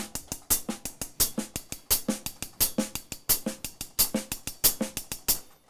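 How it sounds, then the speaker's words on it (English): A drum groove with quiet ghost notes between louder accented snare hits keeps a fast, steady rhythm, crisp and close. "So it's important that it's a ghost note, so it needs to sound like this."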